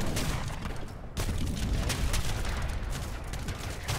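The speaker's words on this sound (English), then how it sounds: "my cannons are all doing area damage" Continuous dense rumble of Age of Empires 3 cannon fire doing area damage, overlapping booms and blasts blending into a steady loud barrage with a brief dip near the start.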